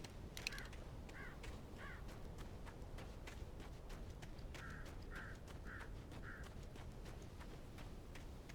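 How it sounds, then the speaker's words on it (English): Crows caw in short bursts of two or three harsh calls in the video game Alan Wake, faint and distant over a steady wind-like ambient hiss. "Birds."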